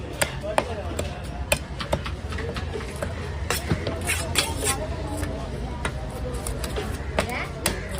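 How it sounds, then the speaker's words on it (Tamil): A knife chops through mullet fish at a busy Kasimedu fish market, with a rapid, irregular series of sharp thwacks and chops. Voices and market bustle continue underneath. "காசிமேடு செல்வம் மீன் ஃபிஷ் கட்டிங்."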